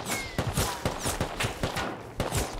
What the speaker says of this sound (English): I missed all my first shots.